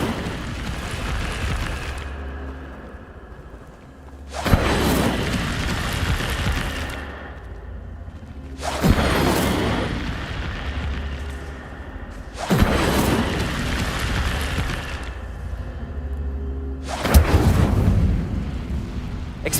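Incendio fire spell in the video game Hogwarts Legacy, five loud roaring flame bursts a few seconds apart, each erupting sharply then hissing away, over a low ambient rumble with no talk.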